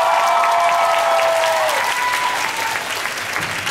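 An audience at a 2011 graduation talent show applauds to welcome a group of Indonesian student performers, with dense, steady clapping that fills the hall and holds strong throughout, tapering only slightly toward the end.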